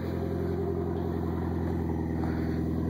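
A Mitsubishi Evo X fitted with a K&N air filter idles outside, giving a steady, even engine drone with a low rumble that holds unchanged throughout.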